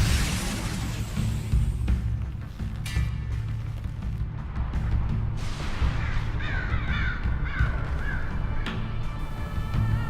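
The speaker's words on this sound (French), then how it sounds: "C'est l'attaque des pigeons en fait." Pigeons attacking in the Darksiders video game, harsh cawing bird calls over a dense, loud rumbling game soundtrack with whooshing bursts throughout.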